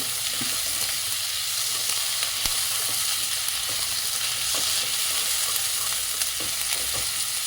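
Boiled potatoes fry in a pan with a steady, loud sizzle, while a spoon scrapes and stirs through them in occasional soft knocks.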